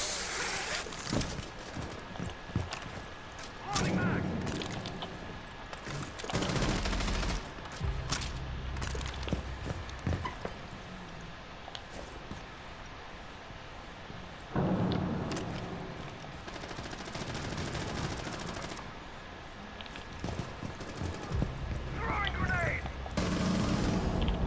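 Scattered gunfire in Rainbow Six Siege, with intermittent bursts and single shots at varying distances amid game noise and footsteps, while a player speaks over some of it.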